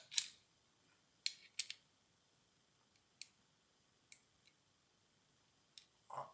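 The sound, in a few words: screwing a nut back onto a Rali Pocket Guillaume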